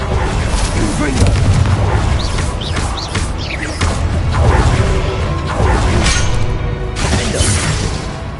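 Blasting-curse spell explosions in the Hogwarts Legacy video game, loud repeated booms and whooshing bursts with crashing debris, close and punchy, mixed with a voice shouting spell names and game sounds.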